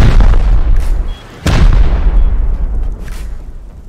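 C4 charges detonate in the survival game Rust: a very loud, rumbling blast, then a second sharp boom about a second and a half later, with a long, heavy low-end roar trailing off.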